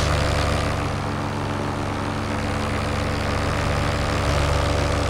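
Parajet Maverick paramotor engine running steadily in flight, a loud continuous propeller drone with a low harmonic hum that holds throughout, no voices.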